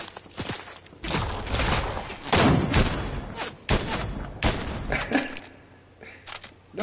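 Bursts of Fortnite gunfire ring out in quick volleys, sharp cracks and loud rapid shots with short gaps between them. There's no speech.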